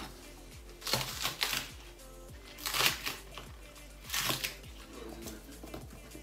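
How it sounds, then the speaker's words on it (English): A knife slices ginger and spring onion on a cutting board, heard as a few bursts of quick close crisp cuts separated by short pauses. "I cut ginger and slices. And I cut spring onion."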